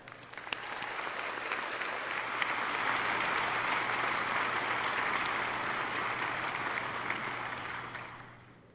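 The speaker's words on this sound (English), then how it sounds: "join me in offering them a round of appreciation and applause." Sustained audience applause at a Simon Fraser University spring convocation ceremony, a steady dense clapping that swells, holds for several seconds and then fades out, with no speech over it.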